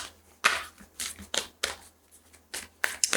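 Oracle cards are shuffled by hand in several quick riffling bursts, crisp and close, separated by brief pauses.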